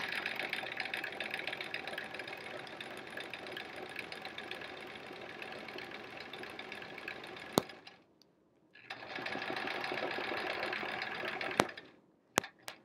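A sewing machine runs steadily and close by during free-motion quilting on a quilt-as-you-go block, stops briefly, then resumes, ending with a few sharp clicks.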